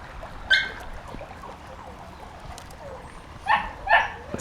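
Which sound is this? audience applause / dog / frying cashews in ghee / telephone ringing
dog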